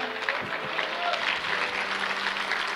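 Church congregation clapping in a sustained, dense burst of applause that fills the room at steady loudness, with voices mixed in underneath.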